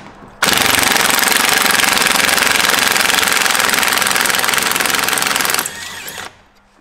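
A rusty M12 bolt is spun out of a MINI with a 15mm spanner: a loud, continuous mechanical rattling buzz runs for about five seconds, then drops to a quieter whir and stops.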